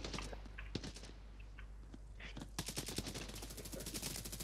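Sniper fire in a video game comes through as sharp, distinct gunshot cracks, at first scattered and then in a quicker rhythmic burst. The shots are moderately loud against a low steady hum.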